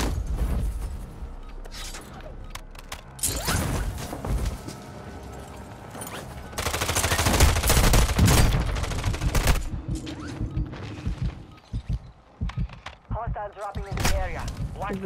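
Gunfire from the video game Call of Duty: Modern Warfare II, with dense bursts and rapid volleys of shots building to a loud sustained barrage, mixed with game effects and scattered impacts.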